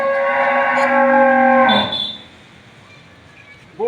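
A Friesian dairy cow gives a loud, close moo lasting nearly two seconds, then falls quiet with faint farmyard background and a brief sound at the very end; no one speaks.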